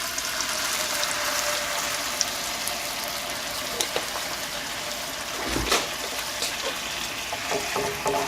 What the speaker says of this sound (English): I'm gonna go ahead and add my cream.